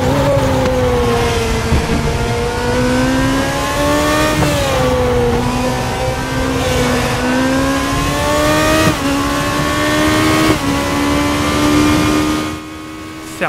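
A race car engine screams at full throttle in the RaceRoom racing game, its pitch climbing and dropping sharply through repeated gear changes, loud and steady over about thirteen seconds before it briefly eases near the end.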